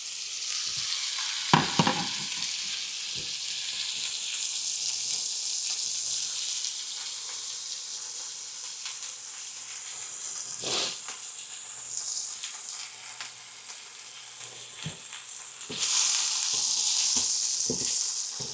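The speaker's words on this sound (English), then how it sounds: "sounds of cooking." Cheeseburger patties sizzling and frying on a hot pan, a continuous bright crackling hiss with occasional stirring or scraping clicks, close and steady, no talk.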